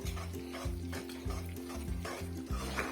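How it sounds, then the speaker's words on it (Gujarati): Jaggery syrup for peanut chikki cooks on a low flame while a spoon stirs it steadily. Close, rhythmic scraping strokes repeat about twice a second over a soft bubbling sizzle, with no speech. "ગેસ સ્લો કરવાનું અને સતત હલાવતા બી રહેવાનું."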